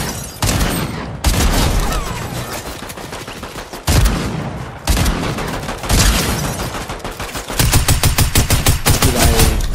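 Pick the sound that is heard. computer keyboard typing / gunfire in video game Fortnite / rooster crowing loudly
gunfire in video game Fortnite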